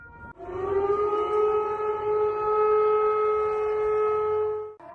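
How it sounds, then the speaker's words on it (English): An air raid siren sounds in Moscow during a scheduled test of the public alert system, a loud, steady wailing tone holding for several seconds with no voices. "woke up to the sound of an air raid siren"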